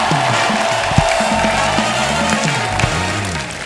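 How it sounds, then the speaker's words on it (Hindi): On a comedy talk-show stage, a studio audience applauds and cheers in a steady, dense wash of clapping, with whoops and wavering voices or music running through it. "जोरदार तालियां हो जाए यार।"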